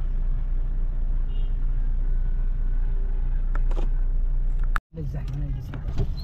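Heavy weekend road traffic in Riyadh sounds as a continuous engine rumble heard from inside a vehicle, with passing-car swells and a brief dropout near the end while people talk.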